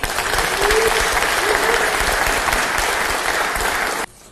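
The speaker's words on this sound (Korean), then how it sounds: "환영과 격려의 박수 부탁드립니다." A room of party lawmakers at a general assembly applauds to welcome presidential candidate Kim Moon-soo, a steady, loud wash of clapping that holds for about four seconds and then cuts off abruptly.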